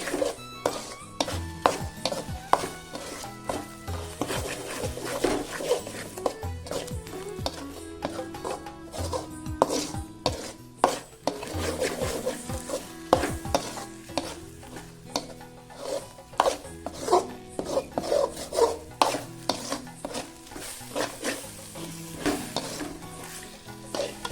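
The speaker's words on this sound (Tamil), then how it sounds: "முட்டை பார்த்திங்கன்னா இந்த அளவுக்கு ஓட்டி வறுத்துக்கோங்க சிம்மில் வச்சு" Egg is stir-fried in a pan on a low flame for egg fried rice, a constant sizzle under quick, repeated scraping and knocking of a spatula against the pan, close and busy the whole way through.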